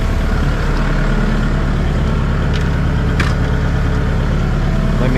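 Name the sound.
tractor engine idling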